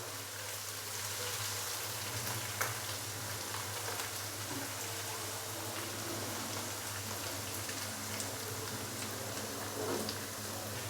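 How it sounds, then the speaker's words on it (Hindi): Ginger garlic paste frying lightly in a pan for a masoor and chicken dish gives a steady, dense crackling sizzle that holds evenly from start to finish with no voices. "अदरक और लहसुन के पेस्ट को हल्का सा फ्राई करेंगे"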